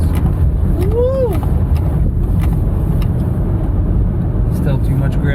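A Ford truck that is burning oil drives on snowy roads on Hakkapeliitta tires, with a loud, constant engine and road rumble from inside the cab while people talk over it.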